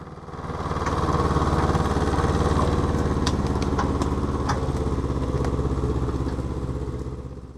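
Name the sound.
homemade small-scale tractor engine driving uphill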